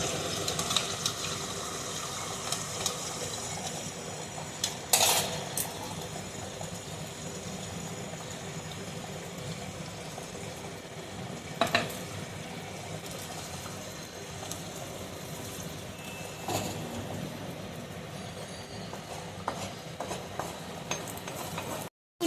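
Beaten egg frying in oil in a pan, a steady soft sizzle running throughout with a few brief clinks and scrapes of utensils, fairly quiet with no talking.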